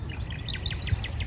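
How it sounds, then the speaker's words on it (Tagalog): Small birds chirp in a rural Philippine countryside setting, a quick series of short, faint high calls repeating evenly over steady background hiss. "Maririnig mo yung mga iyak ng mga ibon"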